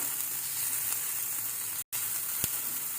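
Onion lightly sautéing in a pan gives a steady, moderate sizzle with a brief cut-out partway through and a small tap near the end.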